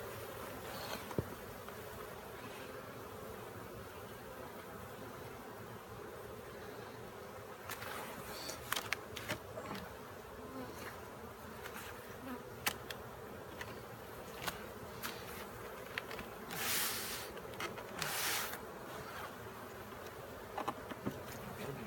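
Honeybees buzz around an open hive during an inspection, a constant low drone with occasional louder bursts as individual bees fly close past, continuing steadily for the whole stretch with no speech.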